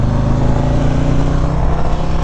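A 2021 Harley-Davidson CVO Street Glide touring motorcycle engine pulling hard under acceleration, a loud, continuous, rumbling drone heard close up from the rider's position with no talking.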